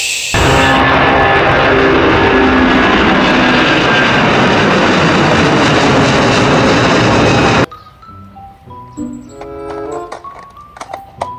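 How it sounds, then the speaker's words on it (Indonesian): An Airbus Beluga cargo aircraft roars with a loud, steady engine drone for about seven seconds, then cuts off abruptly to quieter clicks and scattered tones. "Yang ini adalah pesawat beluga"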